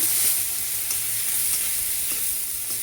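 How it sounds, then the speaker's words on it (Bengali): Onion frying in a pan with turmeric and salt added, a continuous close hissing sizzle with faint periodic stirring scrapes, with no talking. "পেঁয়াজটা মোটামুটি লাল লাল করে ভাজা হয়ে এসছে। তো এবার আমি এর মধ্যে দিয়ে দেবো একটু হলুদ আর অল্প নুন"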